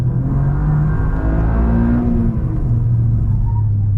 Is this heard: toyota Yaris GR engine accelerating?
yes